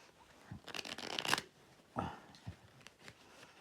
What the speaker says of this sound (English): Just don't riffle shuffle too many at once, I guess.